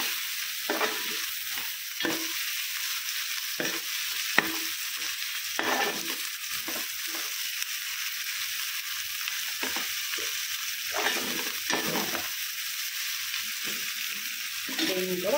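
Tomatoes sizzle steadily in hot oil for an Andhra-style chicken curry, a constant frying hiss broken by repeated scrapes and stirs of a spatula, close up with no talking.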